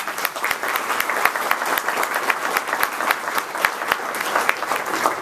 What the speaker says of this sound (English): So let's give Debbie Chin a round of applause.